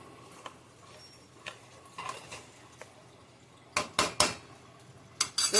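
A spoon scrapes and clinks against a metal cooking pot while poppy seed paste mixed with water is stirred for a traditional Bengali lentil fritter curry, with quiet taps early on and a louder burst of scraping near the end.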